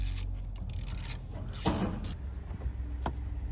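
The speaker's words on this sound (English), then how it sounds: "Let's take these screws out." Close, loud ratchet clicking as screws are backed out of the EGR valve on a Sprinter van, in short bursts separated by pauses, with a few metallic knocks.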